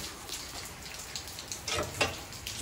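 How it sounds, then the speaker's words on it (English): Heavy rain pours down outdoors, a steady wash of hiss with sharper spattering bursts near the end, close and fairly loud with no voices. "We dodged the rain the last like three days, and uh, boy, it's coming down today."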